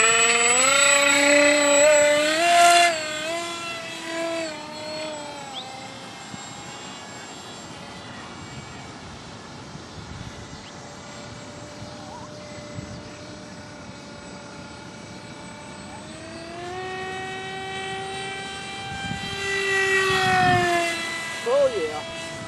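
A small electric model airplane on its maiden flight buzzes with a rising and falling motor whine, loud at first, fading as it flies off, then swelling again as it returns overhead, with voices speaking at times.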